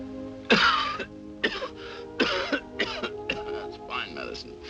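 A man coughs several times in a row, harsh bursts separated by short pauses, close by, with a low steady hum underneath.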